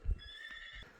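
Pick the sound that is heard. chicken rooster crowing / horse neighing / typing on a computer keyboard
horse neighing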